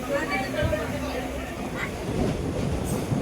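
A passenger train runs from Ramanathapuram toward Rameswaram, a steady rumble of wheels with faint clickety-clack, heard from inside a carriage while a person talks over it.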